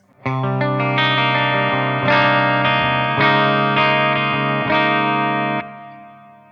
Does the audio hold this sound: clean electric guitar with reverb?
yes